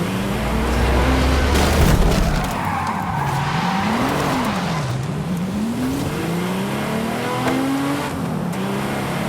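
Engine drone from a Ford Focus RS in a driving game's Eliminator race, with a revving pitch that climbs and dips through gear changes, tire skidding and a heavy thump early on, loud and continuous throughout.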